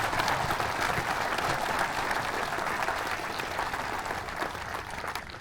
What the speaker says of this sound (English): Please join me in giving them all a well-deserved round of applause.